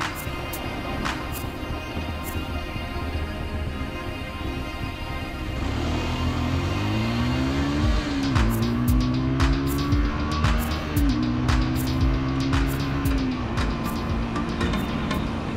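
A Lexmoto LXS 125 motorcycle pulls away from a car at UK traffic lights, its small engine rising through gears in a climbing whine over steady road noise.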